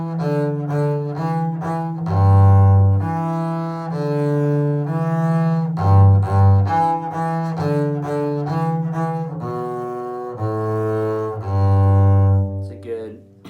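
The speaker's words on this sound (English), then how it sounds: "A tune that's in the George Vance book that uses those notes is Shortnin Bread." A double bass plays a simple pentatonic tune in third position, a folk melody of plucked or bowed low notes in a steady, bouncing rhythm, close and clear, alone without talk.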